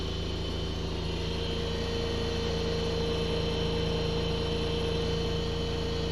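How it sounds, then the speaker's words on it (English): An International Acco 1850D truck engine idling on its own, a steady, even drone with a constant low hum and hiss throughout, close and unchanging, with no voices. "And even idles by itself."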